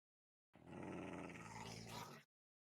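A dog growling in one sustained, low rumbling growl lasting under two seconds, close and fairly quiet, with silence before and after.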